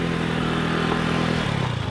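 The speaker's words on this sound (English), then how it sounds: "And this is not a moped, it's a motorcycle." A 125cc motorcycle engine idles close by with a steady, even putter, its pitch dipping slightly near the end.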